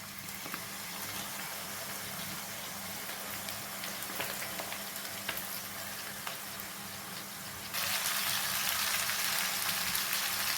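Tomato sauce sizzling in a hot pan while egg pasta cooks, a steady crackling hiss that grows louder and brighter near the end; no one speaks.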